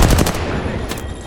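Loud, rapid automatic gunfire bursts in a close firefight in the video game Apex Legends, with dense back-to-back shots and no speech.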